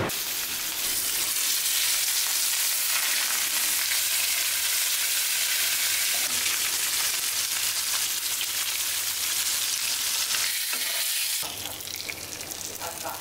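Fish-frying oil sizzles steadily in a pan, a loud continuous hiss that carries on without a break, shifting slightly near the end as something is added or moved.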